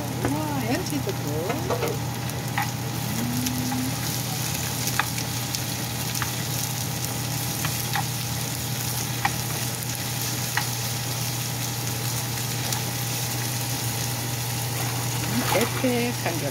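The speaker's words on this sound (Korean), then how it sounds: "이제는 정양파, 흰양파를 넣고 볶아요" Red and white onions stir-frying in a pan after garlic, a steady close sizzle with occasional scraping stirs, while a person talks over it now and then.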